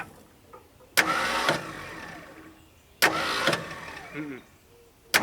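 An abandoned Mustang Cobra engine cranks on a failing starter: two long grinding cranking bursts, each about half a second to a second and a half, separated by quiet, with a short murmur from a person nearby.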